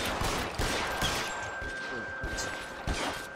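Gunfire rings out in the crime video game L.A. Noire, a dense stretch of repeated shots that stays loud and close throughout.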